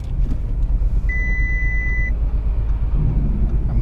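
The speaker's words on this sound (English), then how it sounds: "It's a rough idle." A 2016 Audi S6 engine idles roughly, a loud, low, continuous rumble with uneven pulsing, heard alone with a brief electronic warning tone sounding once partway through.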